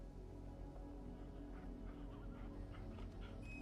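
A dog pants steadily in Final Fantasy XVI, soft rhythmic breathy huffs set against a continuous musical score, with no talk over it.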